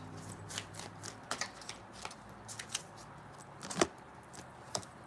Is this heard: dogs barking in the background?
no